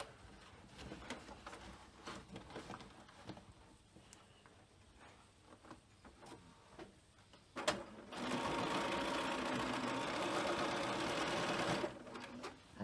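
A sewing machine stitches across a frame bag with clips nearby, first in scattered short taps and handling noises, then settling into a loud, steady whirring run for several seconds before stopping.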